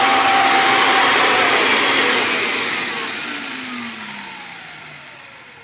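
A Kirby Generation 4 vacuum cleaner, 80th Anniversary Edition, whines loud and steady near the microphone, then its motor pitch slowly drops and fades as it spins down.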